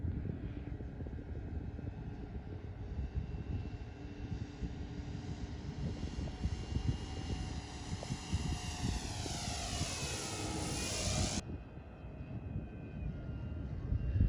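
A large 107-inch RC Pilatus PC-6 Turbo Porter model plane drones steadily overhead, its turbine-style whine holding then sweeping down as it passes by, continuous and moderately distant, with no talking.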